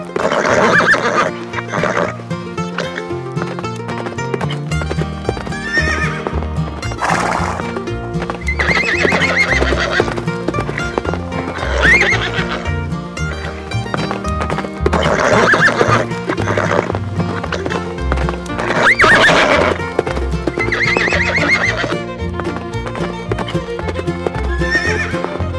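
Horses neighing and whinnying again and again over steady clip-clopping hooves, loud and close throughout, with background music and no talking.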